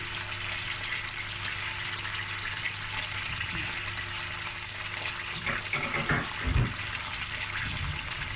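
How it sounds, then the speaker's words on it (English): About half a litre of water pours steadily into a pot of Cape Malay tomato stew with a soft continuous gush, and a few low clunks come near the end. "Add enough water."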